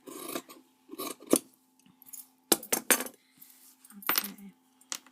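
Scissors cutting fabric for a craft sachet, heard as several short, close snipping and rasping bursts separated by quiet gaps, with faint handling noises in between.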